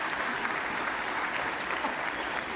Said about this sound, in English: giving her a round of applause for that